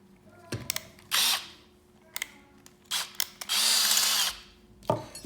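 A power drill set to its low setting drives a fastener in short bursts, whirring loudly several times with pauses and small clicks between, close by and with no voices.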